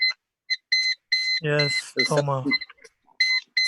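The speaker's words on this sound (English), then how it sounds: "someone is beeping." Electronic beeping from someone's device during an online webinar call on turbulence modeling, a run of short high-pitched beeps repeating in bursts, broken in the middle by a person talking over it.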